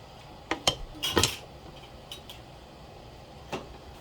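Flat metal canning lids for a jar of homemade blueberry jam clink and clatter in a few quick, close metallic taps and rattles, followed by a lone faint tap, in a quiet kitchen.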